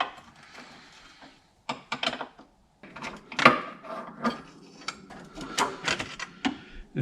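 Subaru Forester battery hold-down J hooks being lifted out by hand, a scattered series of close, sharp metallic clinks and light scrapes separated by short pauses; no talking.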